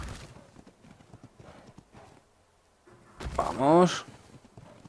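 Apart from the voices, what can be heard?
horse galloping hooves in video game Ark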